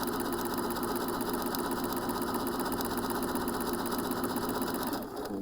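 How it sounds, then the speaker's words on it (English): A sewing machine runs steadily along the side seam of a fabric scrunchie, a close, continuous mechanical whir that drops off briefly near the end. "we're going to sew down along the side."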